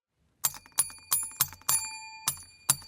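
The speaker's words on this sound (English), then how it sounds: "That's our bell." A quiz bell on a podcast set rings in a quick series of about seven sharp, bright dings, close and loud, with a slightly uneven rhythm and no talk over it.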